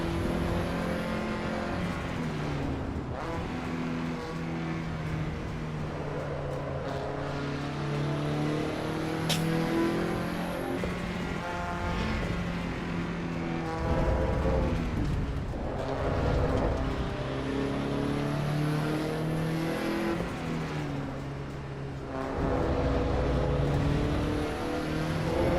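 Lancia Integrale rally car in a racing video game, engine droning and revving through gear changes with steady rises and dips as it drives a track, no talk over it.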